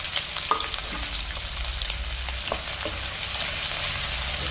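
Sliced onions sautéing in hot oil with fennel seeds, a close continuous sizzle with occasional clinks and scrapes of stirring, growing a little louder toward the end.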